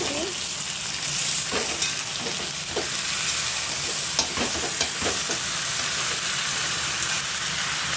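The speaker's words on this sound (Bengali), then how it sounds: "এবার দিয়ে দেবো আলু, চিকেন, সব টমেটো একসাথে।" Potatoes, chicken and tomatoes fry together in a hot pan with a steady, loud sizzle, interrupted by scattered scraping stir clicks throughout.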